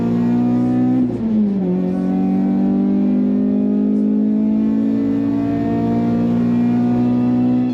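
A Renault Clio 3 RS 197 with its 2-liter 16-valve engine holds a loud, steady rev close to the microphone, dipping briefly near the start before settling into a sustained drone.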